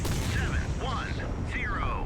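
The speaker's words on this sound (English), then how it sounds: "Double explosion. No instant death." Missiles strike a warship in the naval combat game Sea Power, a double explosion heard as a continuous loud rumbling roar with whooshing tones sweeping over it, lasting about two seconds.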